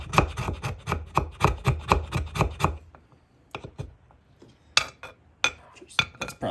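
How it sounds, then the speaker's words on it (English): Knife spine scraping shavings off a small fatwood stick, a quick run of about a dozen sharp, close rasping strokes, a pause, then a few more scrapes. "only took me 10 seconds to scrape off of this tiny stick of fatwood"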